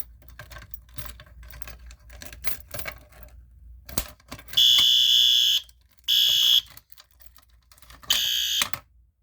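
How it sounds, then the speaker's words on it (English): A fire alarm sounds after a pull station test, with three loud bursts of a shrill electronic tone that start and stop abruptly, following scattered clicks and handling knocks. "Let's go ahead and pull the fire alarm and see if it's gonna work."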